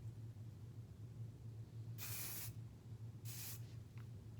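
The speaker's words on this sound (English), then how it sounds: "My finishing product is a little bit of spray to seal the deal with your fingers." Hairspray misted over a formal roller-set updo: two short, close hissing bursts, the first about half a second and the second briefer, over a steady low background hum.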